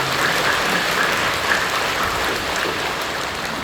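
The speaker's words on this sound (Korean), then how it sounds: "박수로 감사드립니다." Church congregation applauding during a worship service: a steady, dense wash of clapping from a large crowd that holds at an even level throughout, with no talk.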